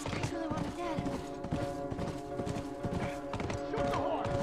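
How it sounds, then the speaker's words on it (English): A horse galloping with repeated hoofbeats and a brief neigh in The Last of Us, loud and close amid dense game music and noise, with someone shouting over it. "Shoot the horse! Shoot the fucking horse! No, the horse is my friend. The horse!"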